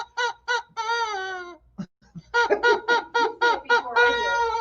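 Squawking, clucking chicken calls, loud and close, in a string of short bursts and drawn-out cries, with a brief pause partway and the calls picking up again more densely.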